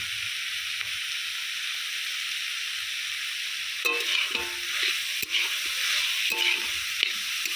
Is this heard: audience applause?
no